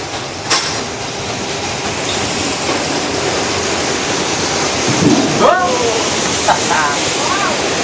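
Flash flood effect on a studio backlot tour, with water rushing down a hill as a broad, loud, steady roar, while people talk and call out over it.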